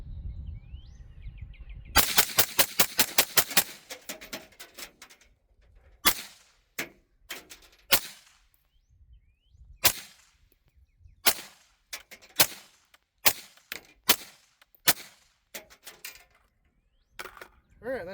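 A Breek Arms Breek Lok rifle fires rapidly during a 200-round torture test: a fast burst of shots, then a long run of loud, sharp single shots in an uneven rhythm, each ringing out briefly outdoors.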